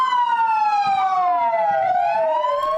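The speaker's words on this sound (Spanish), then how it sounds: "las sirenas de las ambulancias en el Hospital Militar en Bogotá se encienden para recordarlo" Ambulance sirens wailing outside the Military Hospital in Bogotá, several overlapping rising and falling tones sounding loud and close with no talk.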